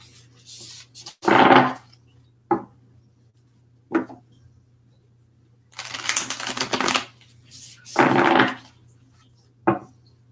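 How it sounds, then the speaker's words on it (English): Tarot cards being shuffled in separate quick riffling bursts, close and crisp, with short pauses and a few single card snaps between them. "Just a couple more shuffles here."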